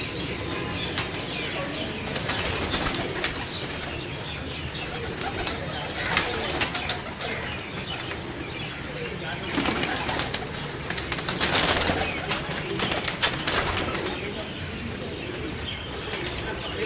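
Flocks of breeding pigeons coo and flap their wings in a loft, producing continuous soft murmuring and bursts of fluttering near and far, while someone talks faintly in the background.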